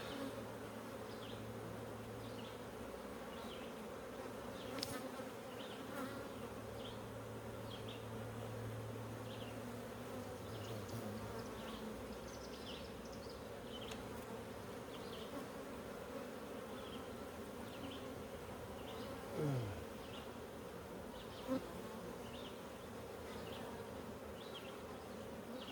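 Honeybees buzzing steadily throughout an open-hive inspection, a dense, close hum with individual bees flitting past, plus a couple of brief knocks partway through.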